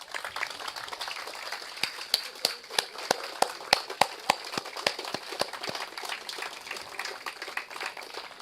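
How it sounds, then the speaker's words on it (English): Sustained applause from a standing audience at an outdoor highway inauguration ceremony, dense crackling claps with sharp louder individual claps popping out steadily throughout. "please rise and give Minister Spat and his team a round of applause"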